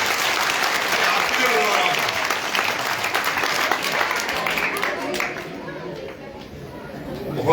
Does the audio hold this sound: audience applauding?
yes